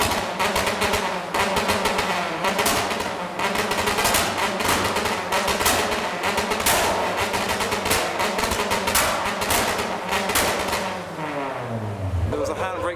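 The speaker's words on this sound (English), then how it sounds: "And now we have Civics doing some sounds and flames." Honda Civics at a car meet, engines revving hard with a rapid stream of loud exhaust pops and crackles, sharp bangs repeating throughout over crowd noise, one engine note sweeping upward near the end.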